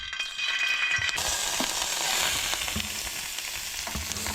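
Ginger garlic paste hits hot oil in a pan, sizzling loudly and steadily with a crackling hiss, plus a few soft clinks of a utensil against the pan.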